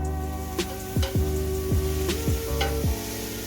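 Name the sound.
onions frying in hot olive oil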